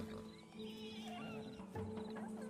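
A horse in Red Dead Redemption 2 gives a loud, close whinny, with a second neigh and hoof sounds following within a couple of seconds.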